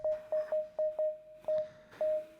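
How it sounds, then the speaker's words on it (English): A pure sine tone from a Jolin Lab Agogo synthesizer module sounds in short enveloped pulses, repeating at an uneven pace, clean and isolated with no other sound. "pretty simple sine wave"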